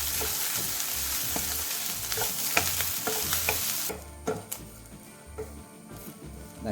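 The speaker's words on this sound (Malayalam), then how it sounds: "നമുക്ക് കുറച്ച് എണ്ണയൊഴിച്ച് വറുത്തെടുക്കാം" Onions fry in a teaspoon of oil in a pan for a roasted-coconut chickpea curry. A steady close sizzle runs under repeated spoon-stirring scrapes, then the hiss drops away, leaving sparser stirring clacks.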